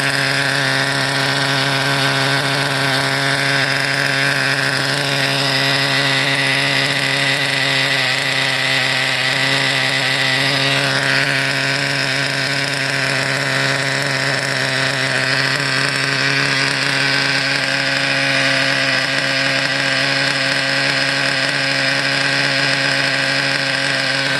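A small, high-revving nitro RC car engine idles steadily and loudly during break-in, holding a buzzy, constant drone for the whole stretch.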